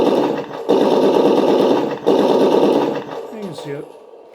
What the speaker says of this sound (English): There we have machine gun.